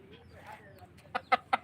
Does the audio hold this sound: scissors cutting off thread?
no